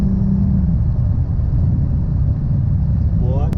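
A Dodge Hellcat in track mode accelerates hard at about 80 mph with its wheels still spinning, making a loud, dense, continuous engine and tire rumble heard from inside the car.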